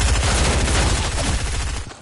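Loud continuous SMG fire in a video game, a fast dense burst of gunshots close up that tapers off near the end.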